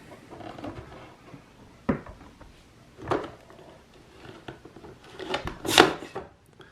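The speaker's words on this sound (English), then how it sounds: "And then when you close the door," Closing the door of a plastic Kenner Ewok Village toy playset gives scattered rubbing and knocking sounds, with a few distinct clacks and a brief scrape near the end, close and moderately loud.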